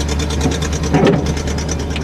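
A 1960 Cadillac shifted into drive and starting to roll gives off a steady, close mechanical hum with faint rattling and ticking throughout, then a brief louder rumble partway through.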